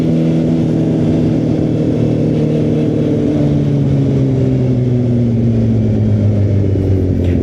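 Yamaha FZ8 four-cylinder motorcycle engine droning steadily while riding, a loud, close, continuous hum with slowly shifting pitch and no talking.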